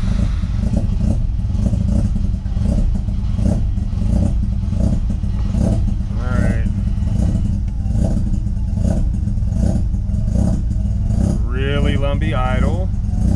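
A Mazda RX-7 FD3S rotary engine idles roughly and unevenly, a loud, close, lumpy burble with uneven pulsing and rattly clatter, while a person talks briefly over it.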